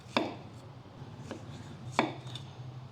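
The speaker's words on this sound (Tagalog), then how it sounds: "itong mga sibuyas, hatiin lang natin into quarters" Knife chopping through onions on a cutting board, cutting them into quarters in a home kitchen: three sharp, separate cuts spaced apart, close and moderately loud over a low background hum.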